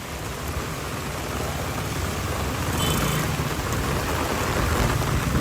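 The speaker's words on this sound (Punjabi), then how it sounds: "ਫੁੱਲ ਹੈ ਵੀ ਮੀਂਹ ਹੈ" Heavy, steady rain pouring down in a dense wash of noise during flooding in Ropar, loud and unbroken throughout, with a faint low rumble beneath.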